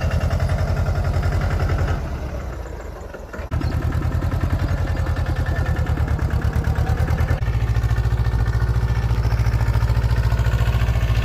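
Close and loud, a Mahindra Jivo 225 DI mini tractor with a seed drill attached runs at a steady idle, its diesel engine chugging in a fast, even beat with mechanical clatter that dips briefly and then returns.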